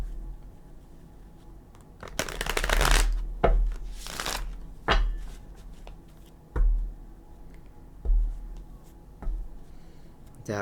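Tarot cards being shuffled by hand in several quick riffling bursts, loud and close, with softer taps and card handling between them and no talking.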